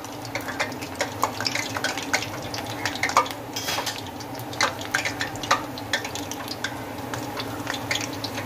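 Gulab jamun frying in hot oil, a soft steady bubbling hiss with faint clinks of a utensil against the pan, low and continuous without talk.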